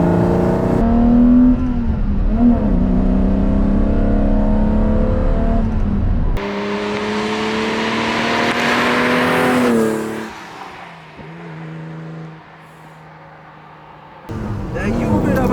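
A 1980 BMW M1 sports car engine revs hard and climbs in pitch, drops off, then settles to a lower hum before building again.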